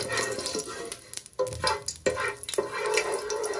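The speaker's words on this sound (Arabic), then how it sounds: "هنا بقى هحمص التوابل شويه كده لحد ما ريحتهم بس تطلع" Whole peppercorns, bay leaves and cardamom toast in a hot pan with a soft, steady sizzle, broken by quick scraping stirs and light rattles of the spices against the metal.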